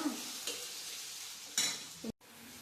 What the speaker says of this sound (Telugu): అల్లం పేస్ట్ వేసానమ్మా. కొంచెం బాగా వేగనివ్వండమ్మా